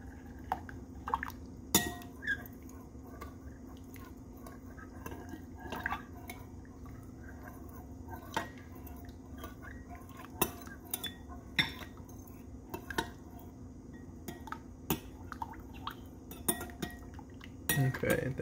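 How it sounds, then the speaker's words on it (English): Utensil stirring miso soup in a bowl, with a steady run of small clinks and scrapes against the dish and a faint wet swish, close and fairly quiet, no talk. "And then you just want to stir this up."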